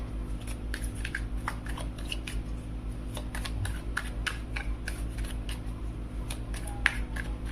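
Tarot cards shuffled by hand in rapid, irregular flicks and riffles, with crisp papery snaps over a steady low hum, fairly close and quiet with no voices.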